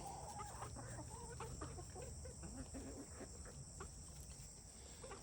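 Hens clucking and murmuring in a steady, busy chorus, with a constant high insect-like drone running underneath throughout.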